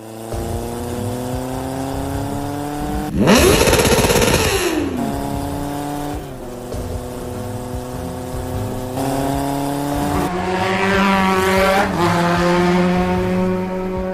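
A cartoon motorcycle engine whines and revs in an animated school-fight scene, its pitch climbing and sweeping in repeated surges, loud and close, with no talking.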